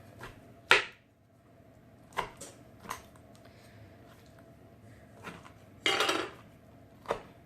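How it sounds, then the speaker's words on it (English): Canned artichoke hearts cut with a knife on a board, heard as a few sparse, sharp chopping knocks and clatters spaced over several seconds in a quiet kitchen. "run this knife through."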